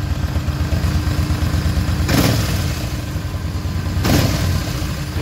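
A Yamaha XVS950A Midnight Star motorcycle, long parked and just back together after a fuel pump refill swap, runs at a steady close idle with two brief blips of revving.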